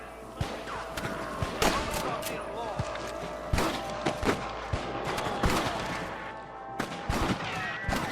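Gunfire in the video game Red Dead Redemption: loud, scattered shots and sharp cracks ring out at irregular intervals, mixed with game music and voices shouting in the shootout.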